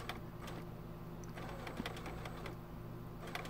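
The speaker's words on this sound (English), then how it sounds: "when the needle goes to the left and creates the little straight line, it's biting into the fabric" Sewing machine stitching right beside a turned applique on a quilt block, a rapid steady mechanical whirr with needle ticks, close and continuous, no voice.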